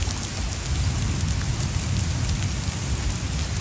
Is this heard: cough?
no